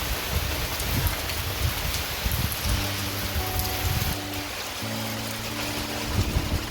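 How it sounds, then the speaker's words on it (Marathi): Heavy monsoon rain pours down in a Konkan village by the sea, a dense, steady roar of drops with wind, while a low droning tone rises in the middle. "जोरात पाऊस आहे"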